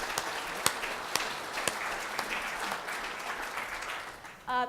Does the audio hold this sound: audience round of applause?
yes